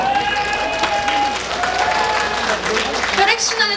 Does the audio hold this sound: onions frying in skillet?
no